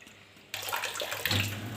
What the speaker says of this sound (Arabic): حتى الحيطان بصوا بعد ما غسلتها رش عليها ميه